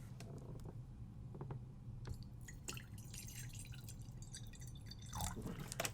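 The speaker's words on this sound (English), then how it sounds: "we're going to add a little bit of water" A little water poured onto a vegan hair brush, faint drips and soft splashes, quiet and close against low background hiss.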